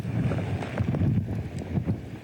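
Gusting wind buffets the microphone during a Hurricane Ida field news report southwest of New Orleans, a heavy, rumbling roar that rises and falls over a couple of seconds.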